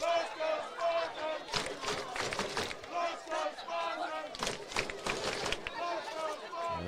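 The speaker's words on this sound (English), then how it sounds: "The Sayre crowd fired up now as the Spartans try to drive for this big touchdown." Crowd at a Sayre high school football game against KCD cheers and shouts steadily, with surges of noise, a loud continuous roar under a commentator's voice.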